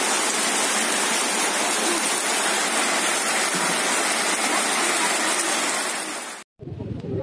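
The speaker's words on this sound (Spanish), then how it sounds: "Primera lluvia gorda en Sapa." Heavy rain pours steadily in Sapa, a dense, loud, continuous hiss that cuts off abruptly near the end, followed by a brief muffled stretch.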